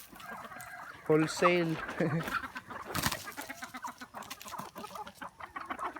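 Native chickens on a farm cluck and squawk close by in a busy, overlapping chorus, with one brief spoken word near the start.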